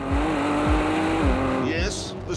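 A Ford GT with a twin-turbocharged V6 engine powers past, its droning engine note rising and falling through gear changes, with a hard shift near the end, while someone talks over the car.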